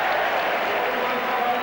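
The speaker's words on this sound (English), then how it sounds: "just listen to the crowd's appreciation of Glenn Hoddle" A football crowd at Tottenham applauds Glenn Hoddle during a 1985-86 match against Newcastle United, a steady broadband roar of clapping and cheering that fills the whole stretch at an even level.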